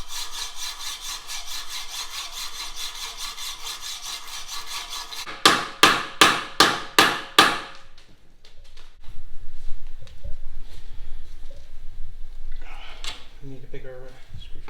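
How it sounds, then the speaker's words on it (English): Cutting through the remnants of a metal bearing race on the rear axle of a VW Mk2 Golf: about six sharp, rhythmic saw strokes close by mid-clip, followed by quieter tool clatter and handling sounds. "I'm just going to cut through what's left of the race."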